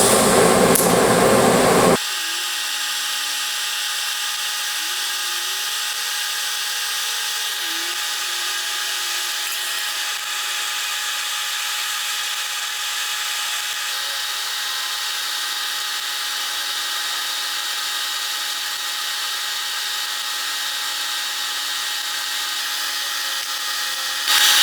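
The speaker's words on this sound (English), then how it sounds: "I'm gonna just go ahead and weld this without stopping, pretty much, all the way around" A steel patch panel is welded in for rust repair: a continuous close crackling hiss runs unbroken for over twenty seconds after a brief louder start.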